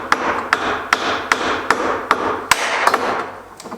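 Hammer blows seat the mortise and tenon joints of an English oak cupboard during assembly, about nine sharp, evenly spaced knocks sounding close and loud with no talk.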